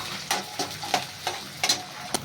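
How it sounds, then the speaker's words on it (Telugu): Garlic, tamarind and ginger pieces frying in a pan: a soft, quiet sizzle under a series of separate scraping stirs, about six spread across a couple of seconds. "వేసుకొని ఒక 5 నిమిషాల పాటు వేయించుకుందామండి"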